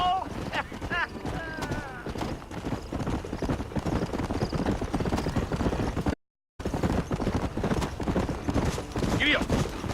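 Hooves pound steadily as a horse gallops in Red Dead Redemption, a loud continuous clatter lasting throughout, broken by a short gap of silence, with someone speaking briefly at the start.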